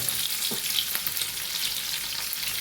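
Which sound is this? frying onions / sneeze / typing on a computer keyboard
frying onions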